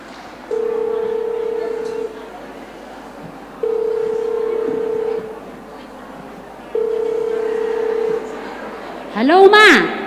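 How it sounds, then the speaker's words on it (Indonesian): Someone dials a telephone, with three long steady tones separated by pauses, followed by a short rising warble of ringing or connection sounds at the end, loud and clear against faint background voices. "tapi ku coba aku telepon dulu"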